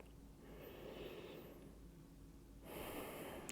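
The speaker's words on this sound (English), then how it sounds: "One more big breath." A big, deep breath drawn during a yoga hip stretch, soft and breathy with a steady airy wash, rising into a stronger rush of air near the end, close and quiet, with no talking.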